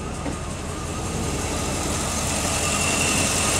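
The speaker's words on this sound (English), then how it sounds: "The vehicle is still running pretty smooth." A hydrogen-modified vehicle engine idles smoothly and steadily, a constant close engine hum with a broad hiss on top, running alone without talk.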